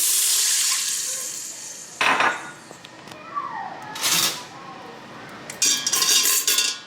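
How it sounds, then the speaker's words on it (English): Water splashes and pours into a pot in a few short bursts, close by, with faint kitchen clatter between pours. "Add some water."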